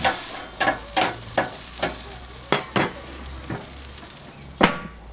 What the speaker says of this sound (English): On go the potatoes. Move them around a bit to make sure they're not sticking.